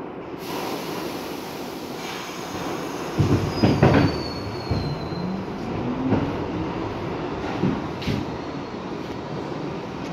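A New York City subway 6 express train, southbound toward 125th Street from Hunts Point, runs with a steady rail roar, thumping wheel clatter around the middle and a thin wheel squeal.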